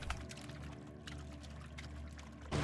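Water trickling and pouring in the video game Spirit of the North, a faint, steady wash of running water with no talk over it.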